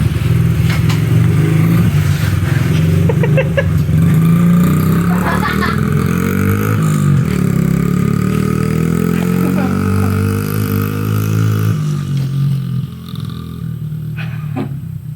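A repaired old Honda XR50 motorcycle's small engine revs loudly up and down, the close buzzing pitch rising and falling before easing off near the end.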